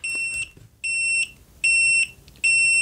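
A Nice-Power SPS3010C bench power supply beeps in overcurrent protection after its output is shorted, giving four loud, steady electronic tones in a regular on-off rhythm, each lasting about half a second.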